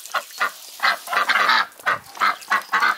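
Repeated nasal honking quacks from ducks, about eight loud bursts in quick succession with short gaps, close by and without talk.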